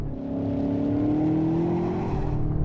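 A 2020 BMW M8 accelerates hard with gears changed manually, its engine note rising steadily in a loud, close drone with no voices over it.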